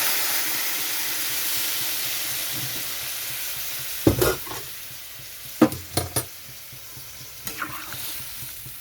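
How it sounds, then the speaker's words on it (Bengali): Hot water is poured into a pan of fish curry with papaya and potato that is frying, setting off a few short, sharp sizzling bursts over a faint background hiss. "এখানে আমি দিয়ে দিচ্ছি গরম জল।"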